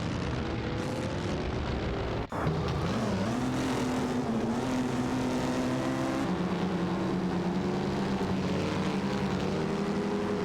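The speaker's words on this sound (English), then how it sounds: "Pillow Flame and Komodo 3K are in a Mercedes-Benz W125" Mercedes-Benz W125 race cars roar continuously in an AI racing game, engines droning loud and close with rising and shifting pitch, one brief dropout near the start and no speech.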